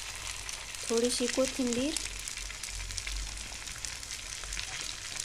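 Eggs sizzle in a hot pan for egg bhurji, a steady frying hiss that runs throughout while a voice briefly speaks over it.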